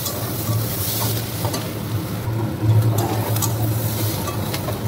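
Food fries in a pan during home cooking for a New Year's Day meal before being mixed into rice. A close, continuous sizzle runs throughout with stirring scrapes, and no one talks.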